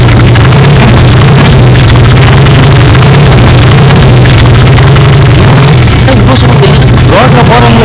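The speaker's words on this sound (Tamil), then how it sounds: "என்னடா வண்டி ஸ்டார்ட் ஆகாதா?" A motor vehicle engine runs loudly and close, a rough low rumble with slight revving that carries on steadily, with voices talking over it.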